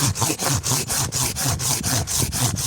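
A hand saw cutting through wood, with steady loud rhythmic rasping strokes about five per second, close up.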